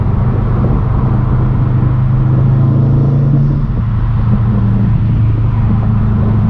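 Subaru STI engine cruising at steady speed from inside the car, a continuous low rumble and drone with a slight shift in pitch partway through, no talking.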